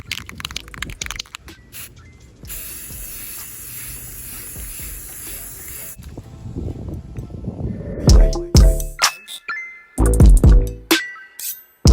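Metallic paint is sprayed onto a Chevrolet Silverado SS clone's interior panel, a hissing spray-gun burst lasting several seconds, followed by sharper pops, clicks and handling noises close by.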